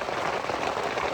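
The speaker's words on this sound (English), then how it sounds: "rain on a tent is the best sound" Steady patter of rain drumming on a tent, dense and even throughout, fairly close with no talking.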